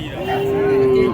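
Young native bull calves at an Indian cattle market, one low drawn-out moo held steady for about a second, fairly close and clear over faint market background.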